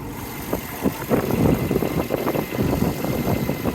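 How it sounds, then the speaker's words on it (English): A 2004 Subaru WRX wagon engine idles steadily nearby, a low uneven rumble with slight rhythmic pulsing throughout. "It's a Subaru engine."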